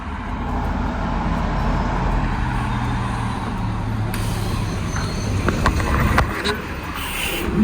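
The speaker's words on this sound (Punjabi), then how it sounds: "ਸੋ ਬੱਸ ਆ ਚੁੱਕੀ ਆ" A city bus's engine rumbles steadily nearby in Brampton, Ontario, with a brief hiss and rattling as it pulls in and slows.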